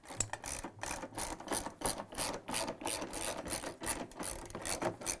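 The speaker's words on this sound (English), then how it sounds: "Using the 10mm socket wrench with a long extension and some patience, remove all the bolts around the top connection." A 10mm socket wrench on a long extension ratchets bolts loose from the top of an LG/Kenmore washer tub, a rapid clicking pawl in repeated bursts, close and fairly loud, with no talk.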